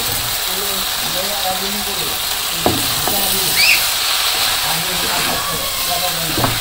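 Green chillies and tomatoes land in a vegetable curry frying in a village kitchen, making a loud, steady hissing sizzle with occasional stirring knocks, while a voice talks over it.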